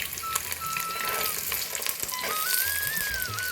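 Shallots, green chilli and curry leaves sautéing in a hot pan give off a steady crackling sizzle throughout, with a faint whistling tone drifting in the background.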